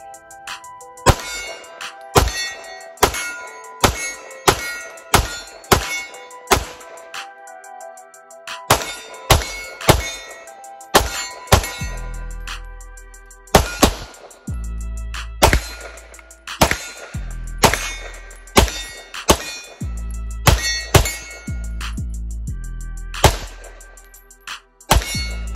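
Custom M&P pistol fired at steel targets on a shooting range: a rapid run of sharp metallic clangs and rings, about two dozen hits in uneven bursts, some with deep low thumps. No talking.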